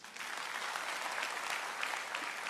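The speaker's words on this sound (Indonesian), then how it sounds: "Tepuk tangan dulu." A crowd claps steadily throughout, dense and sustained applause at moderate distance, with no voices standing out.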